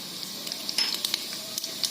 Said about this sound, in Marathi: जिरे परतू द्यायचं.